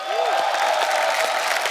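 Studio audience applause and cheering on The Kapil Sharma Show as Hrithik Roshan is welcomed, a steady wash of clapping with scattered whoops under a sustained musical tone.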